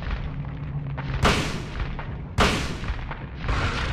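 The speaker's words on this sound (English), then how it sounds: "I definitely have to wait for this thing to open its mouth to shoot it" Two loud gunshots fired in the Silent Hill video game, sharp booming blasts about a second apart, with game ambience rumbling steadily underneath.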